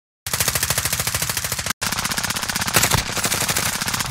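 Sustained automatic fire from a Grau rifle in Call of Duty Warzone, a loud close stream of rapid evenly spaced shots with one brief pause before the burst resumes and carries on steadily.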